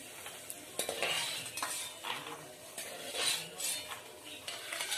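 Peanuts fry in hot oil for a Maharashtrian murmura chivda, a soft sizzle under repeated scraping and clinking of a spoon against the pan as they are stirred, close and moderately loud.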